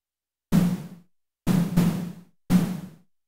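Short percussive hits from a Eurorack percussion module triggered by a gate converted to a trigger pulse: four crisp, quickly decaying noisy thumps, the middle two close together, with silence between.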